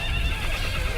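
A horse neighs loudly and close, a shaky whinny sustained over the whole moment with a dense rumble of hooves or movement beneath it.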